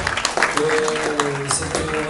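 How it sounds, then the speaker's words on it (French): An audience applauds at a community association event in Valenton, a steady patter of clapping with a voice speaking over it. "On peut vraiment l'applaudir très très fort"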